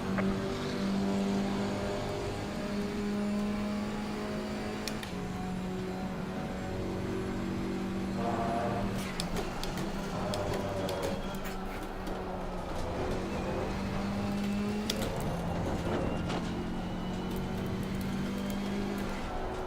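A KTM X-Bow GT4 race car's engine in the Assetto Corsa Competizione racing game drones and revs continuously around the Barcelona circuit, with shifts and rising and falling pitch as it brakes and accelerates, loud and steady throughout.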